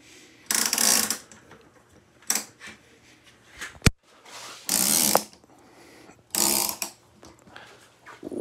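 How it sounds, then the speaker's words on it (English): Ratchet hangers clatter in short bursts as a grow light is hauled upward, several rattling pulls separated by pauses, with a sharp click between them, close up. "I use two ratchet hangers, and then I can pull my light."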